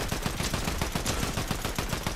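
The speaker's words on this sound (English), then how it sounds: "Shotgun." Gunfire in a Fortnite match, where a shotgun is in use: a quick run of loud, evenly spaced shots, close and punchy, repeating for about two seconds with no talking over it.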